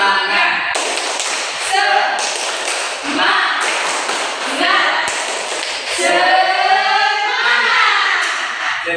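A group plays the Tepuk Semangat clapping game in a classroom, clapping a steady, repeated rhythm in loud patterns while voices chant and talk along with it throughout.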